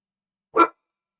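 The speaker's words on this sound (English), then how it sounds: "That's my dog." A single short, sharp bark from a pet dog close by, one burst of about a fifth of a second standing alone in an otherwise silent room.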